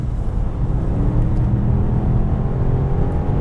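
2018 Mercedes S63 AMG S-Class facelift accelerating in comfort mode, a steady low engine rumble and road hum heard from inside the cabin, smooth and continuous with no talk.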